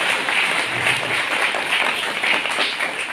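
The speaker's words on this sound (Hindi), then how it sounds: "कृपया जोरदार तालियों से आप स्वागत कर लीजिए" Hall audience at a Republic Day gathering clapping steadily to welcome a neurosurgeon guest to the stage, a continuous, moderately loud wash of applause with no speech.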